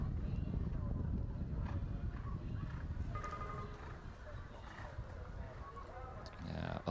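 A show jumping horse's hooves thud rhythmically on the arena ground as it is brought back toward a triple bar fence, heard under ongoing commentary.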